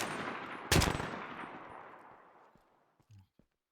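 A single loud FAL rifle shot in the Minecraft video game cracks out close and sharp. Its echo trails off over a few seconds, followed by a couple of faint clicks.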